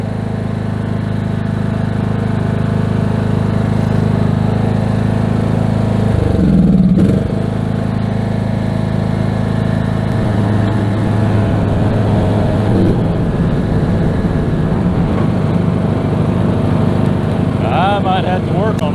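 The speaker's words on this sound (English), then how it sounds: "Can't mow in reverse." A lawn mower engine mowing in reverse during the first backyard mow of 2024 runs loud and close throughout, with a brief change in pitch partway through, then a steady drone to the end.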